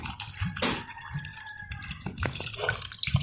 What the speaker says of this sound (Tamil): தண்ணி விட்டு அவிய வைப்பேன் பூசணிக்காயை.